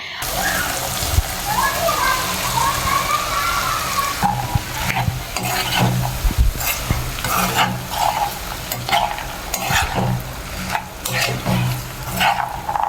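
Eggplant curry with spices frying in a pan, a loud, continuous sizzle and bubbling spatter with a spoon stirring and scraping through it, close up and steady throughout.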